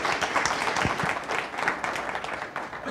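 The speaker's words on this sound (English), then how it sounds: "So round of applause for Yunong." Audience applause for a conference speaker at a tech talk on Docker and Node.js, a dense steady clatter of many hands clapping at moderate volume for the full three seconds, with no voices over it.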